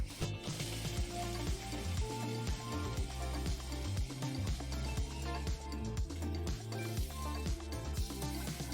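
Sausages frying in a hot pan, a continuous dense sizzle and crackle with occasional spits and pops, close and steady throughout, no talking.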